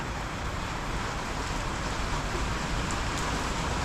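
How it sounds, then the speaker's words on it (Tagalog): Heavy rain pours down in a steady, dense broadband hiss that stays loud and unbroken throughout, with no voices heard. "sumilong ka, malakas ang ulan."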